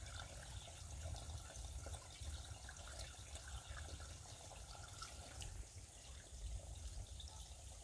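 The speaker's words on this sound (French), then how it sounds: "on arrive à une petite rivière qui s'est bien asséchée, mais on entend quand même un petit peu." A small, mostly dried-up stream trickles faintly along a countryside path, a soft continuous babble of water heard alone at low volume.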